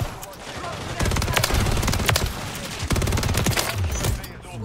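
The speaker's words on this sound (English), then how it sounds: "Oh my god, it's a minigun." Sustained rapid minigun fire in Call of Duty: Modern Warfare 3, a dense buzzing stream of shots in loud bursts with brief pauses, close and dominant, with sharp impact cracks and a voice briefly under it.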